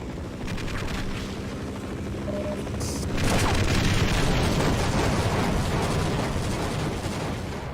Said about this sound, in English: because that helicopter ain't going away